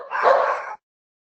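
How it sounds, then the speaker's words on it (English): A house dog lets out one quick bark or yelp, loud and close, followed by silence. "we've got a couple of dogs who just generally kick off whenever they hear anything"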